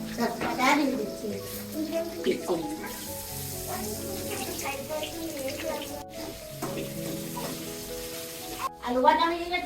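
Bay leaves drop into hot oil beside frying potatoes and chilies, giving a steady, moderate sizzle that runs throughout under a voice talking, with a brief louder crackle at the end.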